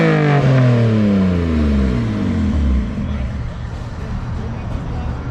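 A Datsun 240 engine revs hard at a car show, rising and falling harmonic sweeps repeating over a few seconds, loud and close, then settling into a rough rumble with crowd noise around.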